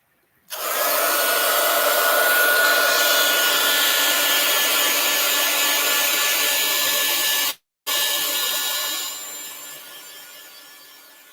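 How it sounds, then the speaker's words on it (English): A hair dryer roars steadily at close range, cuts out briefly, then restarts and gradually fades lower toward the end. "So we'll get the dryer and see what happens here."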